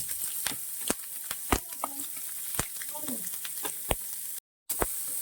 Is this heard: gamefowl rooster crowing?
no